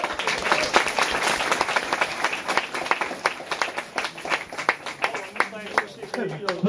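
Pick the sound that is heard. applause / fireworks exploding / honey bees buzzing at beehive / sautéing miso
applause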